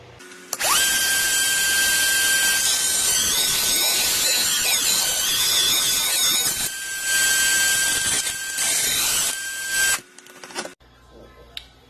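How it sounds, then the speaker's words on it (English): A high-pitched rotary tool fitted with a fiberglass cutoff wheel whines loudly while trimming screws for a TV wall mount, grinding steadily with small pitch dips for about nine seconds, then spinning down and stopping. "I've put the fiberglass cutoff wheel on and mark the screws out where I want them trimmed, so we're going to go ahead and get them trimmed"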